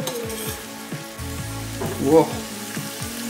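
Chicken frying in a pan, a steady sizzle running throughout with occasional stirring scrapes and a brief louder flare near the middle; a short voiced exclamation is heard.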